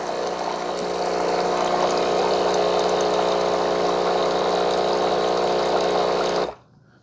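A Breville BES870XL Barista Express espresso machine, being descaled, pumps hot water out through its hot water outlet with a steady loud hum and hiss for over six seconds, then cuts off abruptly.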